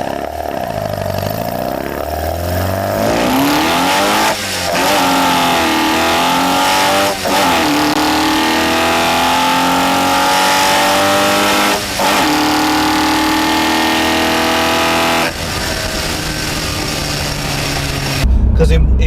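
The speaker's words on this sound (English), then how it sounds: "you're hearing inside this car, all air rushing into that naturally aspirated engine, and it sounds absolutely fantastic" Renault Twingo RenaultSport 133 heard from inside the cabin, its naturally aspirated engine roaring through the intake as it revs up and down through several gear pulls, loud and continuous, with a voice talking over it.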